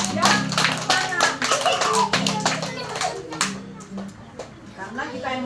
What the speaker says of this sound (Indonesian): Tepuk tangan. Ya, tepuk tangan.